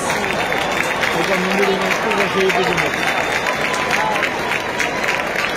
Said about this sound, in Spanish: Recibimos con fortísimo aplauso a batalla do Centro Cultural de Quiñal de Valladares.